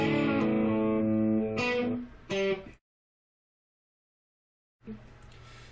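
An electric guitar plays a short lick: a few sustained, ringing notes with slides, played alone. Silence follows, then a faint noise returns near the end.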